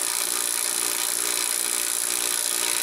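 An HVAC vacuum pump runs steadily, pulling a deep vacuum on a system, giving a constant, close, even motor drone with a high whine and no pauses or speech.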